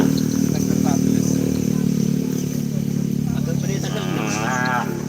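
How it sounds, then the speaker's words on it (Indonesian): Cattle moo nearby over a steady low engine hum and background clatter, with a drawn-out moo toward the end. "Ini sapinya guys. Ini sapi kecil."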